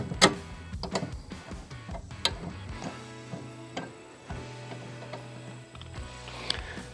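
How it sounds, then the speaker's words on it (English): Fasteners on a Hooyman vehicle spreader rack mount being snugged with a ratchet, giving rapid clicking bursts and sharp metallic taps in irregular spurts, close by, with brief pauses between. "So I'm gonna snug all these fasteners up real quick."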